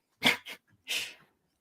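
A person sneezes up close on a podcast-style recording: a sharp burst with a quick follow-up, a brief pause, then another forceful sneeze, with no other sound around it.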